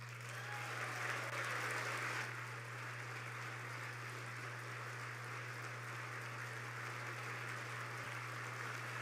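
Applause from the audience at a presidential State of the Union address, a steady, moderately distant wash of clapping that swells briefly early on and then holds evenly under a low constant hum.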